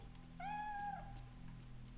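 A cat in the Fatal Frame 3 video game gives a single clear, drawn-out meow over a quiet, low ambient hum, with no talking.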